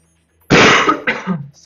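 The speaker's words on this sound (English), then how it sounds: "I am still fighting my cough" A single harsh cough, close and loud, followed by a shorter second cough that trails into a throaty rasp, heard alone against silence.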